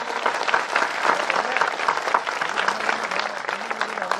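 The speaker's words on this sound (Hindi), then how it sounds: "एक बार पूरा सदन गाय माता के सम्मान में तालियों का गुंजायमान करे आसमान में" An audience at a Hindi comedy poetry gathering claps in honour of the cow, a dense, even burst of many hands that holds steady throughout, with a faint voice beneath the clapping.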